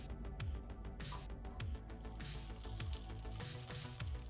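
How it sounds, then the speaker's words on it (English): Butter melting in a fondue pot for stout cheese fondue, a steady soft sizzle and crackle running through the whole stretch with a few faint clinks on top. "I'm going to melt some butter in that fondue pot"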